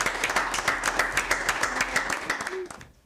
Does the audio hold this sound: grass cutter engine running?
no